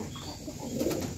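Pigeons in a loft give soft, low cooing calls nearby, a short murmuring phrase that swells slightly toward the end.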